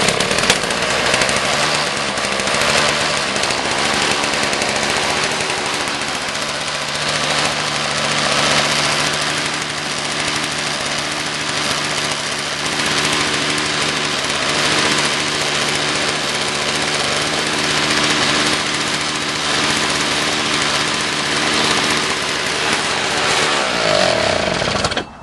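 Electric-start Toro small engine firing up from cold and idling: a loud, steady, rapid chugging and rattling drone running unbroken for the whole stretch, close by, with the tone shifting slightly near the end.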